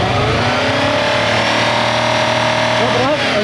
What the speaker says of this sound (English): Give it a good rev.